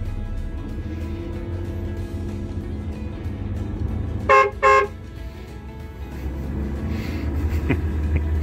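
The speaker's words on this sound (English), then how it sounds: "It's a good horn, isn't it?" A converted bus's horn blasts twice in quick succession, loud and close, over a steady low engine rumble heard from inside the vehicle.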